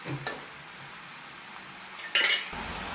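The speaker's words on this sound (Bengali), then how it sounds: "আমি এটাকে ঢাকা দিয়ে দেবো" A lid set onto a pan of salted radish greens, two bright metallic clinks and clatters over a faint background sizzle, close and short.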